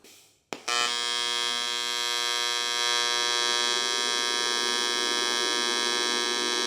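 A Yeswelder 200P TIG welder running on aluminum gives a steady, loud electric buzz with a high whine that starts abruptly after a brief click and holds evenly throughout.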